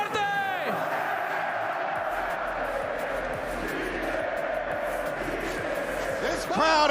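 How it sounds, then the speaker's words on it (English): A large esports arena audience at VALORANT Masters Santiago in Chile roars throughout, a dense, loud wall of cheering and chanting with whoops and shouts, swelling again near the end. "This crowd is having one hell of a time here, and this is just day one."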